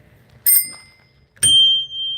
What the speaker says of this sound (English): You should do a bike bell check.